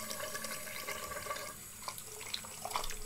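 Tap water runs steadily into a bathroom sink while a face is rinsed, a soft continuous splashing with small irregular spatters near the end and no talking.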